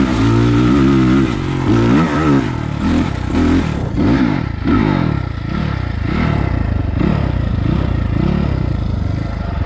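A 2022 SSR SR300 dirt bike engine with a carburetor revs loudly and repeatedly up and down, close by, with a rough mechanical clatter under the rising and falling pitch.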